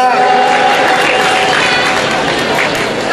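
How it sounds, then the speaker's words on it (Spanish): Crowd applause in Casa Grande, a dense, steady wash of clapping filling the whole stretch at close range, with voices mixed into the noise. "Acá un aplauso para el señor que está grabando también."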